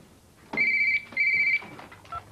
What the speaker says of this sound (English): Answer that friggin' phone